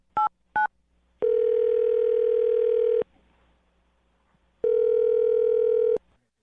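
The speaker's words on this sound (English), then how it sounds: "I'm going to dial her phone number right now" A telephone is dialed with two short keypad tones, followed by two long, steady ringback tones separated by a pause, loud and close.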